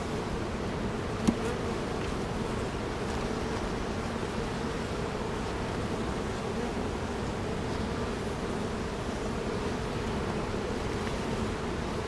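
Yellow jackets and honeybees buzz around an opened honeybee hive in a steady, dense hum that carries on for the whole stretch, with one brief click near the start and no voices.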